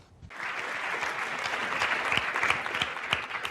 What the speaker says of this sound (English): Thank you guys for the round of applause